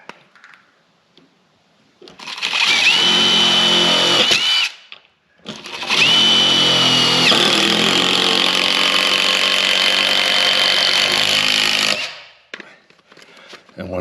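A power drill drives a screw into a wooden board while a large post-frame wall is assembled, with two loud, sustained whirring bursts of about two and four seconds and a brief pause between them.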